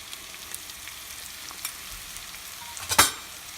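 Cauliflower and peas sizzle softly in a pan with chili and coriander powder, a low steady frying hiss broken by a few light spoon scrapes and one sharper clatter near the end.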